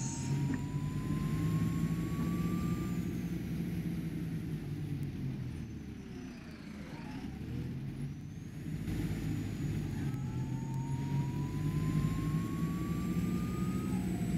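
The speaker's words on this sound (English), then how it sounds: "We are on a Powell's bus. And it is an Optare solo." A Powells Optare Solo bus in the OMSI 2 driving simulator, its engine droning steadily and close throughout, with a brief dip in the middle as it eases off and then pulls away again.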